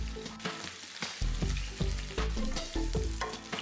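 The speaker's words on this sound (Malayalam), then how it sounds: "വീണ്ടും ഒരു 3 മിനിറ്റ് സമയം മാത്രം മീഡിയം ഫ്ലെയിമിൽ ഫ്രൈ ചെയ്യുക" Chicken pieces for butter chicken sizzle and fry in a pan over a medium flame, with a steady hiss broken by repeated stirring scrapes and clatters, close up and without talk.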